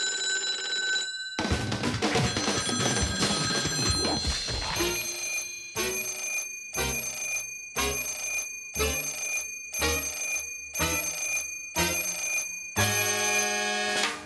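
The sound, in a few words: telephone ringing in Sam & Max video game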